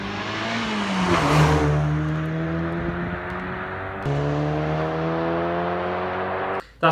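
Mazda MX-5 NC fitted with an aftermarket exhaust revs hard, climbing to a loud, harmonically rich howl, then holding a steady high drone before a second surge, ending abruptly.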